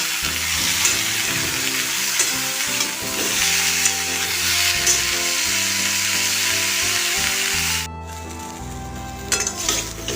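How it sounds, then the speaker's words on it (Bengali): Drumsticks and potatoes fry in oil in a pan with a loud, continuous sizzle over a low hum. Near the end the hiss suddenly drops away to a quieter crackle. "এটা হালকা করে মিনিট 4 ভেজে নেব।"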